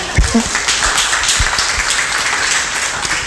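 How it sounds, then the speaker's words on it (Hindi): Audience clapping at a spiritual retreat session, a loud burst of many hands that holds steady for a few seconds. "आप ताली बजाएं आपके लिए, हाँ बजा दो भाई आप सबके लिए"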